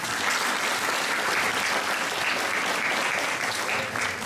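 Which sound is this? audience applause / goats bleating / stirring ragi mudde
audience applause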